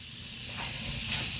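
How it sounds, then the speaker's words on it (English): Steady fizzing hiss of vinegar foaming and bubbling on a brass drain cover at close range, continuous and fairly soft with slight swells. "Just going to let it sizzle, fizzle, whatever you want to call it."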